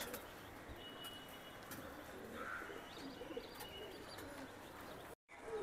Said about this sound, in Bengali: এটা হচ্ছে মাদি কবুতরটা।